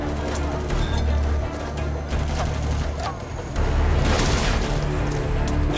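Sustained battlefield shooting in Metal Gear Solid V: The Phantom Pain, a busy wash of overlapping shots with a few sharper cracks standing out, mixed with other game ambience and swelling louder near the end.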